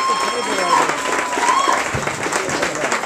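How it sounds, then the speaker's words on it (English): A community center crowd applauds at an opening event, steady dense clapping throughout while a voice talks over it. "Please give them a round of applause."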